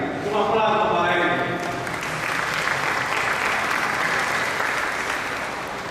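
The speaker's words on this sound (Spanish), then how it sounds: "Un aplauso para ellos." Warm crowd applause at a commemoration event for the anniversary of the April War, steady dense clapping from a gathered audience, loudest at the start with some voices mixed in, then holding level before easing slightly.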